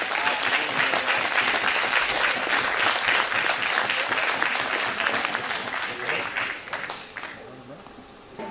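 A festival audience applauds a musical-theatre association's show, sustained loud clapping from a large crowd that slowly tapers off toward the end.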